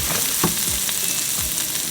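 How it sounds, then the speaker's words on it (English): Lobster paste and tomato paste sautéing in a pan over medium-low heat, a steady close sizzle and fry with occasional stirring scrapes, no talking. "So you just want to saute this until it's fragrant."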